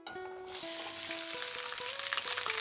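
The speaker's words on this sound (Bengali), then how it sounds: "পেঁয়াজ, টমেটো, কাজু, রসুন, আদা, কাঁচা লঙ্কা একসাথে তেলে দিয়ে দেবো।" Onion, tomato, cashew, garlic, ginger and green chilli drop into hot oil for a paneer masala. A quiet start gives way to a loud, dense sizzle that holds steady to the end, with a faint tone underneath and no talking.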